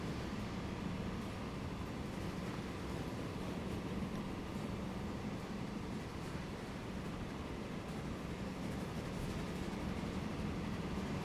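Mail train from the Transport Fever 2 game running through a busy rail network, a steady, dense rumble of rolling wheels and carriage noise that stays even and continuous throughout.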